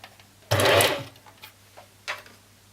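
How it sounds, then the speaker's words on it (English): A sewing machine stitches elastic for wristcuffs in one close, loud half-second burst, followed by a few faint clicks and a brief second whir. "and start sewing"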